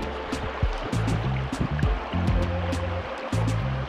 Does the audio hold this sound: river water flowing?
yes